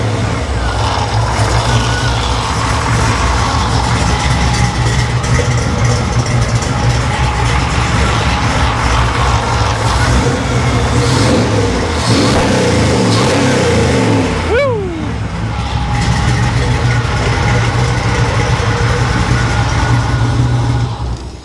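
A Chevrolet Nomad engine runs near and loud, idling with a whirring, rattling note and rising into brief revs mid-clip before settling back; a voice speaks briefly over it.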